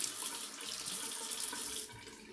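Tap water runs steadily into a sink during a wet shave, a continuous close hiss and splash lasting the whole stretch, easing slightly near the end.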